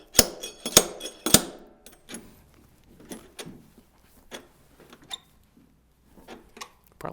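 A wooden bung is hammered out of a Jack Daniel's whiskey barrel: three sharp, loud knocks in quick succession, followed by quieter scattered taps, creaks and handling thuds in a room.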